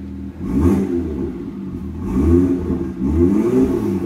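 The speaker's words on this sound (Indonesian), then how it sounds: "Nah, sekarang kita geber ya, suara kayak apa." A 2018 BMW M2's engine is revved repeatedly while stationary, three deep throaty surges rising and falling in quick succession, loud and close.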